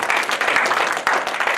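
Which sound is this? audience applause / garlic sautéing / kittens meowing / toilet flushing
audience applause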